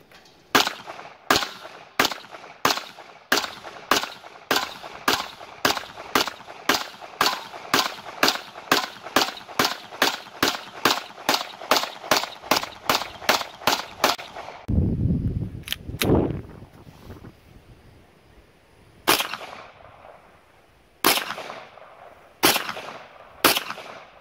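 A PMR-30 pistol fires a long, even string of sharp, loud, close shots in steady rhythm. A brief pause with handling noise follows, then three more spaced shots.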